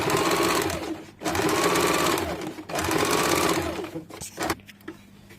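Sewing machine stitching the side seam of a six-panel petticoat, a rapid buzzing run repeated in three bursts separated by short stops, ending with scattered clicks as the machine halts.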